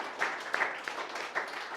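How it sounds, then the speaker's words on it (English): Brief round of audience applause at a real estate investing conference, short and moderately faint with a few sharper individual claps standing out, alone without speech. "Can everybody give Chris a round of applause?"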